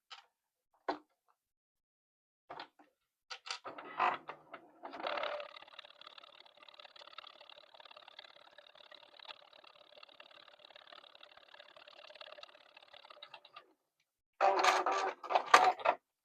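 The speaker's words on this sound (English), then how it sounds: "I'm just going to sew a 1/4 inch straight down." A sewing machine stitches a straight quarter-inch seam down a quilt block, a steady, close mechanical whir running about eight seconds, set between brief handling clicks and thumps.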